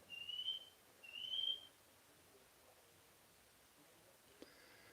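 A pet bird mimics a fire alarm beep with two short, bright, piercing whistled tones in quick succession, followed by near silence and a faint tap.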